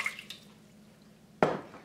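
Cold water poured into a cooking pot for a strawberry glaze, heard as a single short splash that starts abruptly after a quiet stretch and fades within about half a second.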